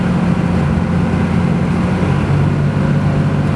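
A Dodge Ram 2500 pickup with a late-shifting transmission cruising around 40 mph, a steady loud low engine and road rumble heard from inside the cab.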